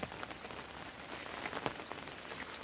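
Heavy rain pouring down steadily outdoors, a dense, even hiss of drops striking surfaces, moderately faint with no voices.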